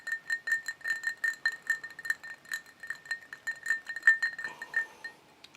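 Bourbon glass clinking as a finger stirs the whiskey: a steady run of bright, ringing taps at an even quick pace, close and fairly quiet, trailing off into a softer rattle at the end.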